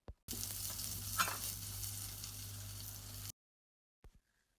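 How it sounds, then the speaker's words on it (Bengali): Fish sizzles steadily in hot oil in a pan for about three seconds, a dense continuous crackle with a brief louder pop, then cuts to silence followed by two faint knocks. "মাছটারে উল্টো পাল্টায় 3-4 মিনিট সময় ধরে 2 পাশই ভাইজা নিলাম"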